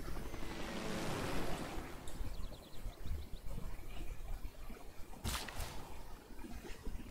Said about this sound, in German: Helikopter, ja, da steht er jetzt schon wieder drauf.